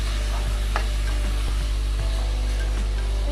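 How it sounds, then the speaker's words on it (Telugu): Quarter kilo of mutton stirred and frying in a pan for hotel-style mutton curry, a steady close sizzle with soft scraping stir strokes at intervals, no talking. "ఈ మటన్ వేసుకున్న తర్వాత ఒకసారి మొత్తం అంతా బాగా కలుపుకోవాలి"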